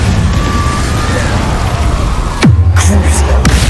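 Incendio fire spell in Hogwarts Legacy: a sudden burst erupts midway, giving way to a low crackling rumble over a dense bed of game noise.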